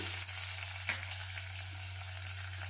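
Steady frying sizzle of cumin, chana dal, urad dal, curry leaves and onion in hot oil for cabbage palya, with a low constant hum beneath and one brief scrape near the start.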